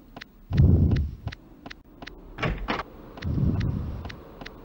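Doors opening in a castle video game, with a series of sharp clicking taps at a steady rhythm interleaved with several low rumbling, sliding swells, close and fairly loud, without speech.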